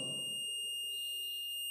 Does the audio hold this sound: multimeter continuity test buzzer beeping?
yes